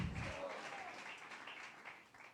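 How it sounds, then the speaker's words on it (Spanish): A church congregation applauds in a faint, steady patter of clapping that carries through the whole moment without a break. "Dale ese fuerte aplauso a Rey de Reyes, Señor de Señores."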